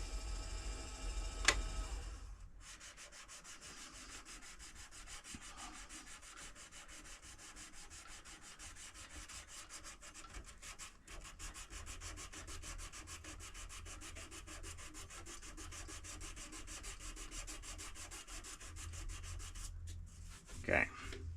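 An oak pen blank is sanded by hand with sandpaper, a close, steady dry rubbing that continues for about twenty seconds after a brief pause near the start.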